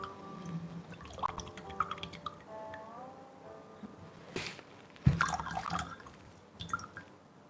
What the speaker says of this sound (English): Look at the pouring.